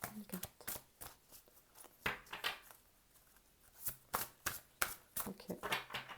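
A tarot deck is shuffled by hand in quick riffling bursts of papery flutter and snaps, close and fairly quiet, with pauses between bursts and faint speech mixed in.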